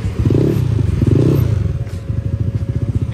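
A Honda Vario scooter idles with an electric turbo added, its engine chugging loudly and close by in a steady, uneven putter, with a clattering rattle over it.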